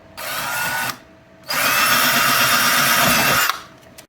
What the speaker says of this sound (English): I will need to drill a hole in here for the drawer